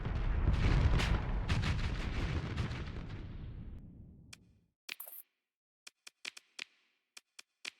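Missile launches in the space combat game Starsector, opening with a loud, dense barrage of rumbling blasts that fades over several seconds, followed by a string of sharp, isolated clicks and pops.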